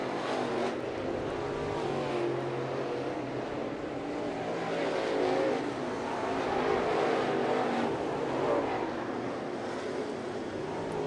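Crate late model race cars roar around the dirt oval at East Bay Raceway Park, a steady, rumbling engine drone that swells and eases slightly as the pack passes, with no voices.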